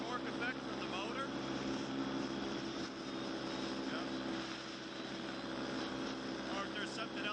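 A paramotor engine and propeller droning steadily in flight, a constant loud buzzing hum with someone talking over it throughout.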